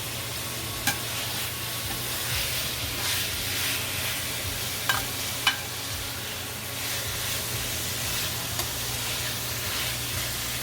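Cubed pork tenderloin fries in a pan for a Portuguese pork Alentejo-style dish, making a continuous dense sizzle with a few sharp pops and light clinks over it, close and steady, with no voices.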